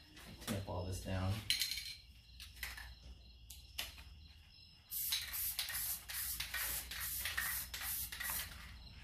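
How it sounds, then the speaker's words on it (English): Spray adhesive hissing from an aerosol can onto the back of a template for a plexiglass arcade control panel, in short bursts and a longer final spray, close by, mixed with light handling clatter. "So I'm going to do a little bit of spray adhesive on the back here."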